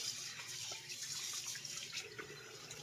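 Running tap water pours and splashes over a yellowfin tuna steak being rinsed in a sink, a soft continuous stream with small irregular splatters, fairly quiet and close.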